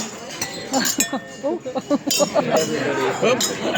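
Glasses clink together during a wedding toast, a few bright, short chinks scattered over loud guest chatter and voices in a busy reception room.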